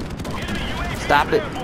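Helicopter gunfire in a video game rattles as rapid, dense bursts, loud and steady throughout, with a voice speaking over it.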